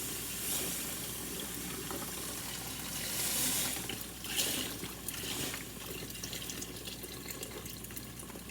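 Unsalted chicken broth pours steadily into a gumbo pot, a continuous liquid rush and trickle with a brief louder swell midway, close and alone.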